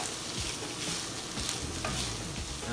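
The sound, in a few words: stirring chicken asado filling in a pan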